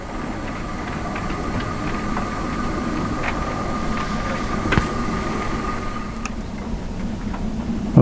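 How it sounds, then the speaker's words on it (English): A model railway Royal train runs on its layout with a steady mechanical whir and faint rhythmic ticking of wheels over track joints, a few clicks standing out near the end. "that's the Royal train I'll be running."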